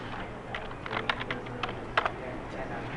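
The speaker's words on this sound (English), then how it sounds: "eventually when I type the word exit" Close typing on a computer keyboard, a run of irregular key clicks and taps over a low steady background hum, with no voice.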